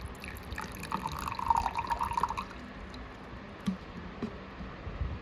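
Water poured into a container during a classroom light-refraction demonstration makes a faint, short trickling splash that fades into a few scattered drips, with no talking.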